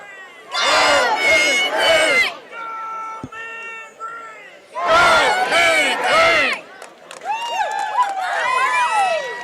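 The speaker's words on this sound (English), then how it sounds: "Looks like this Gobbler crowd starting to increase." Cuero Gobbler fans at a high school football game against the La Grange Leopards let out loud bursts of crowd yelling and cheering, two big surges separated by a near-silent pause, with a looser swell of shouts at the end.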